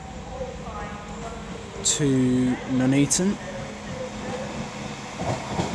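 West Midlands Railway unit 196007 pulls into Coventry station on the West Coast Main Line, a steady rumble and rolling wheel noise under a station announcement, with a brief surge of brake and wheel squeal midway.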